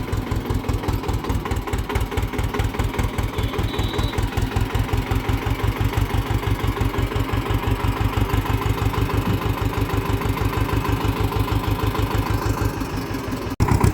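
Eicher 312 tractor engine labouring up a slope with its wheels slipping, a loud, steady, rapidly pulsing diesel chug that holds evenly throughout, close to the listener.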